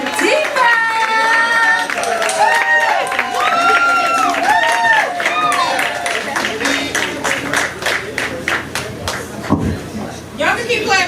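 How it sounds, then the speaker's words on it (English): An audience at a music performance claps along in a steady rhythm, the clapping partly buried under loud voices and laughter near the start and clearer toward the end. "Y'all can keep clapping."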